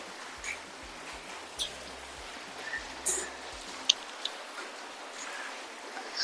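Steady light rain patters softly, with scattered louder drips and taps over a faint hiss.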